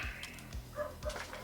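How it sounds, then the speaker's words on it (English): A dog barks a few times at a distance, faint and muffled, spaced roughly half a second apart. "Sorry about the barking."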